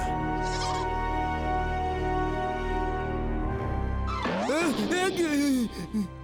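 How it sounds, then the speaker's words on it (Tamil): A cartoon lamb bleats in a loud, wavering cry near the end, after a stretch of animated background music and a brief earlier sound. "பேலா, இது ஆட்டுக்குட்டியா இல்ல புலிக்குட்டியா?"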